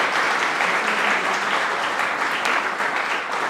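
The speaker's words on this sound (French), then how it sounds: "donc on peut les applaudir aussi." Steady, full applause from an audience at a New Year's address, a continuous wash of many hands clapping at even loudness throughout.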